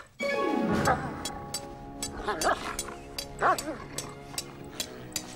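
A dog barks and yips repeatedly in a French TV series scene, its sharp, whining calls coming in uneven bursts close by.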